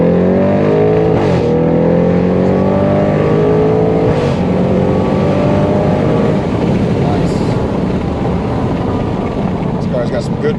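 An Audi RS7 fitted with a loud Fi exhaust, a deep, steady engine drone with rising harmonic sweeps as it accelerates, close and loud throughout, with voices talking over it.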